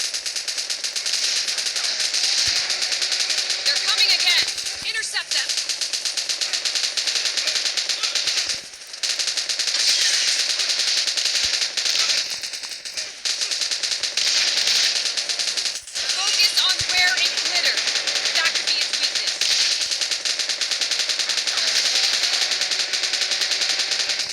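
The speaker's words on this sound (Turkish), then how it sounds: "Ya kaç yüz tane mermi attım." Gunfire in the mobile game PUBG Mobile, during a Godzilla and King Kong versus Mecha Godzilla mode, crackles in dense, rapid automatic bursts almost without pause, loud and close, with players talking over it.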